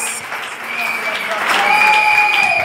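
Congregation clapping during a church service, a steady wash of applause that swells toward the end while voices sing or call out over it.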